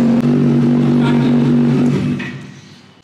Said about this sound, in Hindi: ये है ब्रॉक्स एग्जॉस्ट का साउंड।